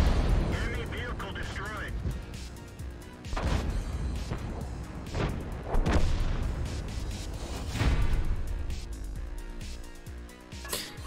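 A tank's main gun fires in World of Tanks, heavy booming blasts and explosions rolling over engine rumble and battle noise, with several impacts spread across the stretch and voices talking over them.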